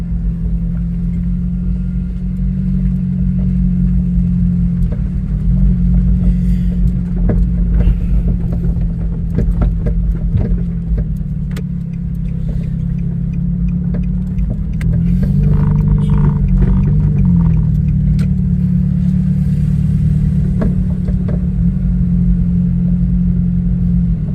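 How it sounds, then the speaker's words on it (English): A car rolls steadily through small villages near a Pacific lagoon, its engine a constant low interior hum and road rumble, with occasional rattles and slight shifts in pitch as it speeds up, no talking. "let me drive through these little villages, see where I'm at."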